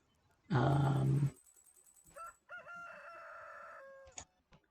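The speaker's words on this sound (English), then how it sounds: "Cock-a-doodle-doo." A rooster in Stardew Valley lets out one loud, bright cock-a-doodle-doo, followed by softer, steadier game tones and a few faint clicks, with no talking.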